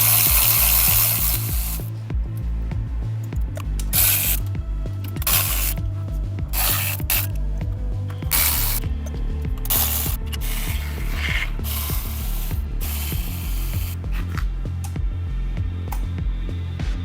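A ratchet works on side parts of a Ferrari 456 V12 engine, with repeated clicking strokes and bursts of hissing spray over a steady low mechanical hum, with no talking.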